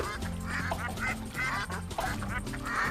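Rubber duck quacks from the PlayStation 3 game Super Rub a Dub repeat over busy, steady game music.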